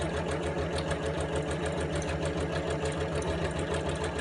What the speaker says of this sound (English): I'm just going to sew a straight seam all the way down